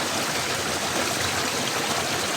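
A mountain creek flowing steadily along its bank, a dense, even wash of running water close by with no voices.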